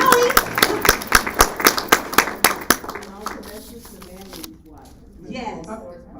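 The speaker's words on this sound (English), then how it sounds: "Get your hand clap for that." Audience clapping at a Clayton County legislative update event, a burst of distinct, fairly loud hand claps for about three seconds that thins out and fades, with voices murmuring underneath afterward.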